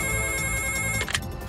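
A phone rings with a steady electronic warble for about a second, then stops abruptly, fairly loud against a low background hum.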